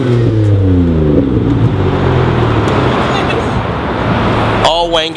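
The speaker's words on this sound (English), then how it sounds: "we got a 3000 GT coming around" A Mitsubishi 3000GT drives past at night at a Japanese car meetup, its loud engine note rising then falling as it sweeps close by, with a brief voice near the end.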